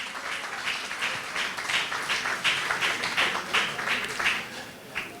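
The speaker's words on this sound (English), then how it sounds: "I want you to give all of the speakers a round of applause" A round of applause for the speakers at a political party's 52nd convention in St. Kitts and Nevis, dense steady clapping from a large crowd that swells and holds for several seconds.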